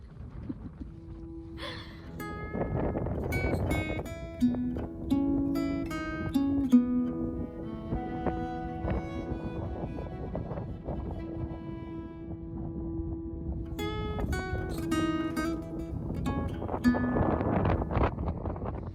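Gusty wind rushes and flaps against a tent's fabric on Kinder Scout, rising and falling over a long stretch, with occasional creaks and tonal whistling.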